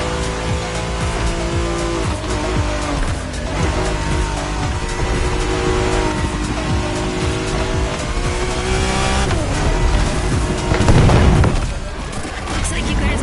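Race cars roar through a race in The Crew Motorfest, engines droning continuously with shifting pitch, tires squealing and a heavy thump near the end, all loud and close under a dense game mix.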